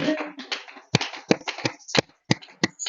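Scattered sharp hand claps from a church congregation, about eight crisp hits in an uneven rhythm, mixed with murmuring voices and a loud room.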